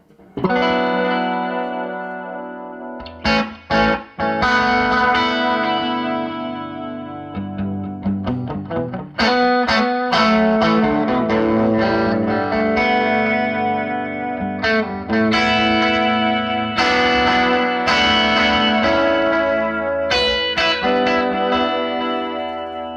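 Distorted electric guitar through an MXR Echoplex delay pedal: chords and notes ring out, trailing into repeating echoes and washes of delay that blur between phrases, loud and continuous.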